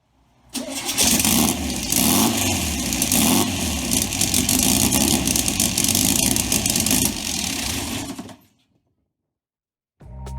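Turbocharged VW 2276 engine cranking and catching, then running loud and rough at close range for about eight seconds before cutting out abruptly, followed by silence and a brief restart at the end.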